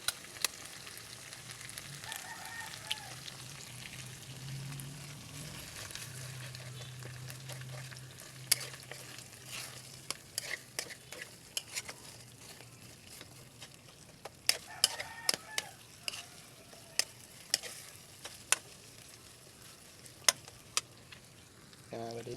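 Egg frying quietly in a pan, a soft steady sizzle with occasional sharp clicks and scrapes from a utensil, faint and somewhat distant, with brief low background sounds and no clear speech.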